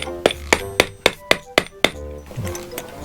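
A rubber mallet taps a spindle into a door lock during a DIY key replacement at a resort condominium, seven sharp evenly spaced knocks close by, then a brief rustle.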